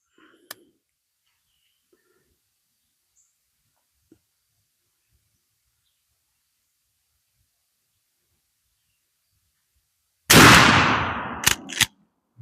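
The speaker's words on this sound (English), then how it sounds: "We're going to shoot a 5-shot group" A 20 gauge shotgun fires a single 3-inch magnum Federal Truball rifled slug at a 50-yard range: one sharp, loud blast with a short ringing tail, then a couple of mechanical clacks after a long stretch of near silence.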